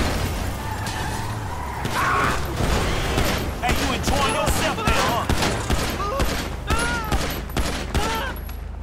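A weapon fires repeatedly in the video game GTA V, a rapid string of sharp shots over engine and street noise, with someone talking throughout.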